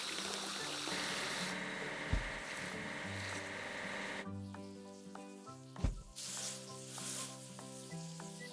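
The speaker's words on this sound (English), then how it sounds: "Let's wash the mail car." A mail car is washed in a trains video game: a steady hiss of spraying and scrubbing runs beneath upbeat game music, broken by two soft thumps and a pause midway.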